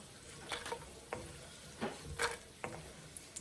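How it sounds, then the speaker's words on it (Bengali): Chillies fry in oil in a pan, a faint continuous sizzle broken by several sharp clinks and scrapes from stirring, with no voices. "এই যে মরিচগুলো হয়ে গেছে আমি এখন ভাইজা উঠিয়ে ফেলবো"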